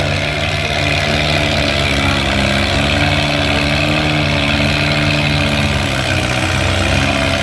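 An Allis-Chalmers B vintage tractor engine labours under load at a fair's tractor pull, a steady, loud, continuous engine drone with a low throbbing note and no talk.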